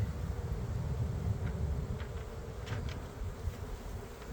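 Honey bees buzz in a dense, continuous low drone during a hive inspection, with scattered individual bees flying close past over the steady hum and no voices.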